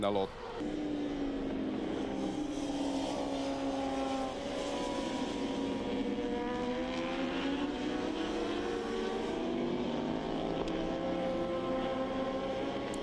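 Honda racing motorcycles lap the Oschersleben circuit during an eight-hour endurance race in 2013, a steady, continuous engine drone with rising and falling pitch sweeps as bikes pass, heard at a distance under ongoing commentary.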